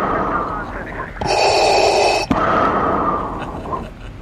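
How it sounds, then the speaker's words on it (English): A Darth Vader breathing sound effect plays close and loud, a long mechanical hissing inhale followed by a rasping exhale, set against a murky background hum. "need a Darth Vader breathing sound if the pressurisation is wrong"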